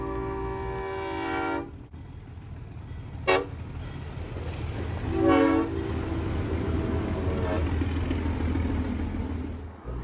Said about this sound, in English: one of two trains that service the area arrived. This one being hauled by two Alco DL535E locomotives.